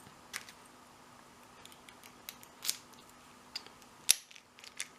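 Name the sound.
key operating an Abus 40mm My Sport padlock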